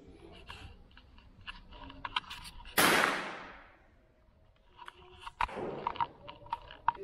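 One loud FX airgun shot cracks at a shooting range in Marseille, with a sharp onset and a long decaying whoosh. A second, weaker shot follows a few seconds later, with small clicks of handling in between.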